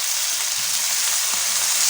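Water poured into a hot pan of egg korma with black pepper, a steady loud hiss and sizzle throughout, no talking.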